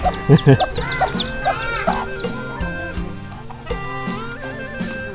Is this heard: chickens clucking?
yes